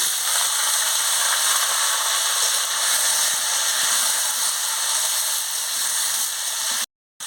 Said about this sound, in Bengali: এবারে ভালো করে ভেজে নিচ্ছি।